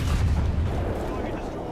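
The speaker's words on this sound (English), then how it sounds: "Artillery strike in your sector." Heavy artillery strike in a tank video game, a deep booming rumble that is loud at the start and fades away over under two seconds, with a voice faintly present.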